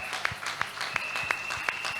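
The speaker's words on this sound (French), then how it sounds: "Acclamez pour elle" A crowd at a Christian miracle service claps for a woman, producing a steady wash of applause with a few louder claps at regular intervals, and a faint sustained tone runs beneath it.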